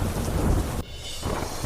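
Heavy monsoon rain pours down during flooding in Bangladesh, a dense, steady roar of rainfall that briefly thins for a moment before returning at full strength, with no voices.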